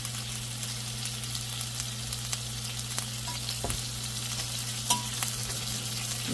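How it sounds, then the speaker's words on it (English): Pork ribeye steaks sear in butter in a hot pan, with a loud, steady close-up sizzle and a few faint utensil clicks. "you can throw in some butter in there, y'all, and let that sear a little bit"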